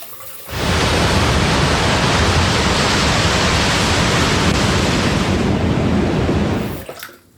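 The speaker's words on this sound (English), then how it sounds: "Oh, before we forget that, let's rinse off." A tap runs hard and steady for rinsing after a razor shave, a loud continuous rush of water that starts abruptly and stops just as suddenly, with no one speaking.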